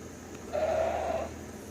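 A single goat bleat from a nearby herd on a sunny mountainside, a clear wavering cry lasting under a second, moderately distant over a quiet outdoor hum.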